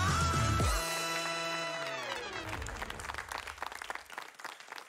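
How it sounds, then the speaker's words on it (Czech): A sustained musical chord rings out and fades, and audience applause for guest Kamil Kazma Bartošek rises beneath it, growing into a crackling spread of many hands toward the end, fairly soft overall. "Dámy a pánové, potlesk pro Kamila Kazmu Bartoška!"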